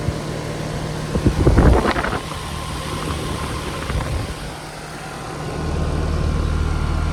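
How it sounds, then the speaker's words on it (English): An early 2000s Ruud Achiever X 3.5-ton heat pump with a new compressor starts up in cool mode, giving a steady low mechanical hum with a louder surge of startup clatter early on, then settling into a continuous running drone. "That was a startup of an early 2000s Ruud heat pump in cool mode"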